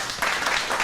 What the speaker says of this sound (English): Let's do this clap again.